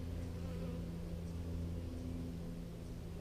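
A dense, steady buzz from honey bees crowding an opened beehive after being smoked, a continuous low drone with no letup throughout.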